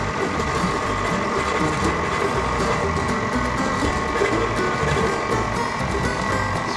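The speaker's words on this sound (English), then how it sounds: "With the mixer on low speed, we're going to add the flour mixture in 3 additions" An electric mixer runs on low speed, blending flour into batter for a Kentucky bourbon Bundt cake. Its motor gives a steady, close, whirring hum with a faint rattling texture that stays constant throughout.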